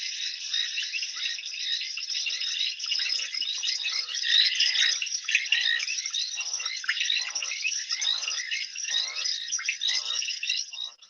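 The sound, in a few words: crickets chirping on wildlife webcam at night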